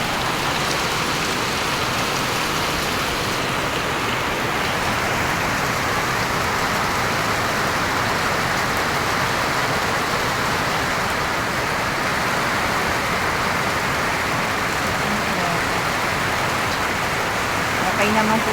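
Steady, dense rain patters continuously on a leaking house roof nearby, a constant hiss with no breaks.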